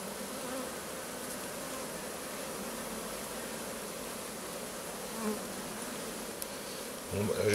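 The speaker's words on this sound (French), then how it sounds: "Alors c'est vrai qu'il y a beaucoup d'abeilles là." Honeybees at a Layens hive buzz continuously in a dense, close swarm, a steady droning hum throughout with small rises near the end.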